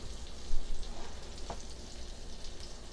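Bread slices with a Parmesan crust frying on a grill, giving a steady close sizzle and crackle with a brief louder burst early on, no talk.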